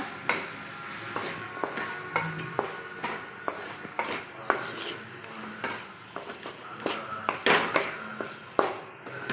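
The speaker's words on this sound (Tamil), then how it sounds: "இது எல்லாத்தையும் நல்லா கலந்துக்கலாங்க" A spoon stirs gooseberry pickle mixed with asafoetida and chili powder, making a run of close, uneven scraping taps and clicks against the container, with a faint sizzling hiss underneath.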